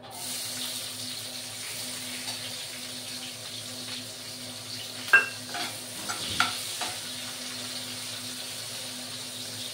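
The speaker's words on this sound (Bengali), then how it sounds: "জিরেগুলো একটু ভেজে নিচ্ছি। এই পেঁয়াজের কুচিগুলো দিয়ে দিলাম।" Cumin and chopped onion sizzle in a pan with a steady low hiss, while a few spoon stirs and clinks stand out near the middle.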